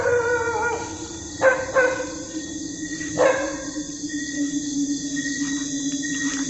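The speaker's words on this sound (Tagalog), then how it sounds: "Ingin ng aso." A dog howls at night in long, wavering, mournful cries, one rising after another, fairly close and clear over a steady background hiss.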